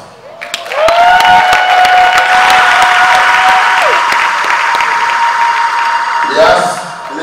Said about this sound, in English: please a round of applause for my wife